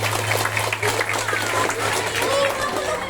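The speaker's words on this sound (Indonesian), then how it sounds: "Tepuk tangan." A school crowd at a Maulid Nabi celebration breaks into brisk clapping that fills the short stretch, with shouting and children's voices mixed in over a low hum.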